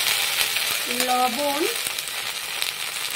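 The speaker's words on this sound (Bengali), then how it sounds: "ভিন্ডিটা অনেকটা ভাজা হয়ে গেছে।" Okra (bhindi) sizzles and crackles steadily in a hot pan, a continuous close frying hiss with a brief tonal squeak in the middle.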